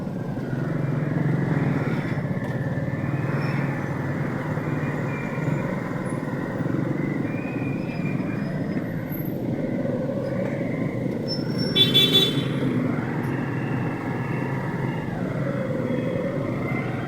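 Busy street traffic heard while riding a tricycle, a steady engine drone and road rumble with passing motors and a brief high horn or brake squeal midway.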